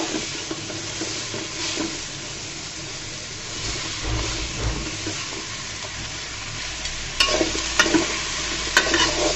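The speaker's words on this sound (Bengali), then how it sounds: "চিচিঙ্গা ধুয়ে রাখা চিচিঙ্গাগুলো দিয়ে ভালো করে নাড়াচাড়া করে মিশিয়ে দিব" Snake gourd being stirred with spices in a hot pan: a steady sizzling hiss under soft scraping, with a few sharper clinks of the spoon against the pan near the end and no talking.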